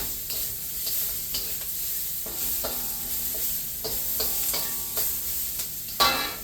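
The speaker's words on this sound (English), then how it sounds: "Let's just saute those onions and garlic up a little bit." Onions and garlic sizzle softly in a pan, broken by several distinct clicks of a spoon stirring and scraping, with a sharper clatter near the end.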